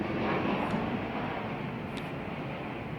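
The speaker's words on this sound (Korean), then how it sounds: "우리 집은 5분 간격으로 저 비행기 소리가 저렇게 납니다." A passenger airplane with landing gear down on approach to Gimpo Airport, heard from a nearby home as a steady, loud broadband roar that fills the whole stretch without letting up, with no talking.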